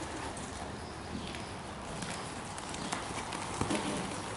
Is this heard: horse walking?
yes